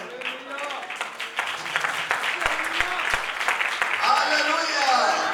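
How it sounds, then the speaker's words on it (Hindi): Church audience clapping, a steady crackle of applause mixed with a voice speaking over it, growing somewhat fuller near the end. "देखा ताली कितना कम हो गया।"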